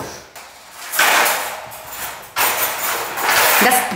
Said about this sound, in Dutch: Dat is het deurtje, hè.